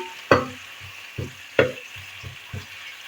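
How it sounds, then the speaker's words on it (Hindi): Garlic ginger paste frying in a pan with softened onions, for a potato and white eggplant curry, giving a low steady sizzle broken by several sharp stirring or scraping clatters at irregular intervals, with no talking. "हम लहसुन अदरक का पेस्ट जो है वो शामिल कर लेते हैं। इसको थोड़ा सा फ्राई कर लेते हैं"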